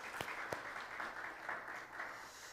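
Congregation applauding in thanks to God during a Korean Good Friday church service, right after two praise teams have sung. Dense, steady clapping from a room full of people, with a few sharper claps standing out near the start.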